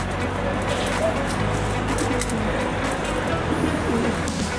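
A pigeon cooing softly in repeated low, throaty notes over a constant background hum, with a brief higher chirp near the end.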